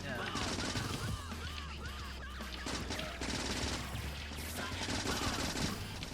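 Gun turrets in the video game Factorio fire in rapid continuous bursts, a dense rattling barrage with crashes mixed in, loud and steady throughout under occasional talk.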